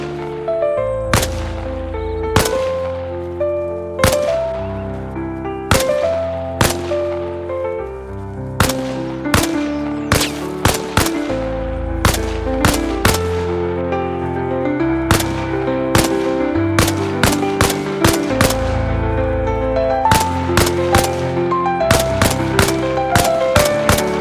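Gunfire in the video game Arma Reforger, loud sharp shots in rapid bursts and single reports repeating steadily with echoing tails, close and alone.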